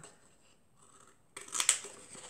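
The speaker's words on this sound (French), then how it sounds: "on découpe les coins comme ça" Scissors snip the corners of paper for a handmade album. After a quiet start there is one short, close cutting burst.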